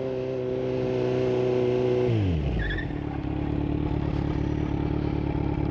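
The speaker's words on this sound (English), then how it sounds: "now we're gonna go 25 front and rear brakes." A Kawasaki Z900 motorcycle engine hums at speed, then winds down sharply as the bike brakes hard with front and rear brakes from 25 mph, followed by idling rumble and a light squeal.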